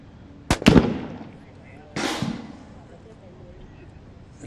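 A sniper rifle shot cracks sharply during a SWAT challenge competition, followed by a second loud report about a second and a half later, both standing out against low outdoor background noise.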